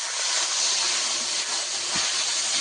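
A splash of water hits frying masala of turmeric, chili and coriander powder for a rupchanda fish curry, producing a loud, continuous close hiss of steam that barely wavers throughout, with no talking.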